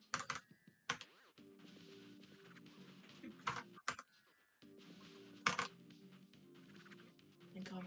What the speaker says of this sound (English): Thank god my keyboard's loud.